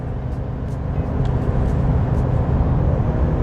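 A Chevy 1500 pickup with a 5.3L V8, towing a load uphill, drones loudly and steadily with a deep low rumble and a slight rise as it downshifts, close and continuous.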